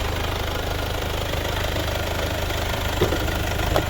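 A 2013 Mercedes-Benz B180 1.8 CDi diesel engine idles nearby with a steady, knocking rumble that stays constant throughout, no voices present.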